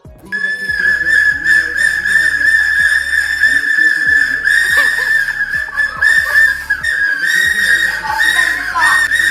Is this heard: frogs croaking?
no